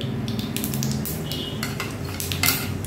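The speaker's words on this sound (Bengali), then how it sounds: "তেলটা গরম হলে এতে আমি দিয়ে দিচ্ছি সামান্য গোটা সর্ষে" Whole mustard seeds go into hot oil with faint crackling, while metal utensils clink and scrape against the pan in quick, irregular taps.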